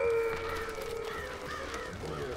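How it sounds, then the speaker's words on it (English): Crows caw in the papercraft video game Tearaway Unfolded with several harsh, rasping calls in an uneven sequence over soft game background ambience, with no voices. "That's right, crows."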